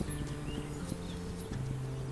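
Horse hooves clip-clopping in the video game This Land is My Land, a steady walking rhythm of soft thuds against a busy ambient game backdrop with faint tonal hums.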